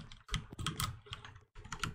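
A computer keyboard clacks in rapid bursts of key presses during a Roblox game, close and fairly loud, with short pauses between the flurries.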